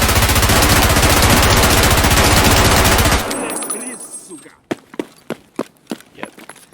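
P90 submachine gun fired in Escape from Tarkov with SB193 and SS190 ammo, first a long loud continuous burst of automatic fire, then a lull and about half a dozen sharp separate shots spaced apart.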